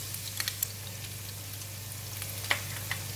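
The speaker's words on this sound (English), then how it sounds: "Stir in the Korean chili paste." Korean chili paste being stirred into tofu frying in a pan, a steady soft sizzle with a few light scrapes and taps of the utensil against the pan.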